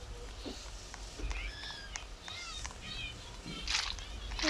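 A cat in the Roblox game Grow a Garden gives several short, high meows in a quiet scene, with a few brief splashy clicks.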